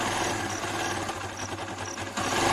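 Kawasaki Barako 2 motorcycle engine idling in neutral after a tune-up, a steady close mechanical patter with an even rhythm and no tappet knock standing out.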